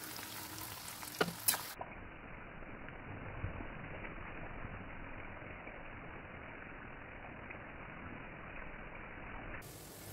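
Ground ginger hits hot oil in a pan while a homemade hair oil is made with leaves from a home garden. It gives a steady, even sizzle that holds for several seconds with no voices.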